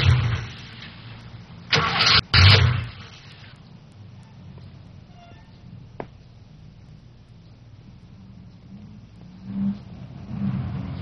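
A car engine cranks and catches after a dead-battery problem, two short loud bursts of starting, then settles into a quiet, low idle with a few faint revs toward the end.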